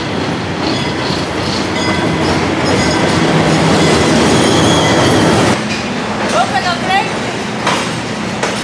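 A train rolls past close by near a hotel and restaurant at Machu Picchu, a loud continuous rumble with wheel clatter and a brief squeal as it passes; voices can be heard faintly under it.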